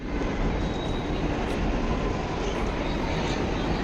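A metro train rumbles loud and close with a continuous broad roar, steady throughout with no pauses.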